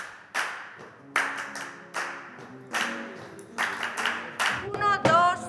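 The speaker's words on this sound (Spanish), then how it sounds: "El claustro se ha convertido en un patio andaluz donde el ritmo de las palmas atrae la alegría." Rhythmic flamenco palmas in a cloister set up as an Andalusian patio, a series of sharp, evenly spaced hand claps that gather pace toward the end, with a brief voice near the close.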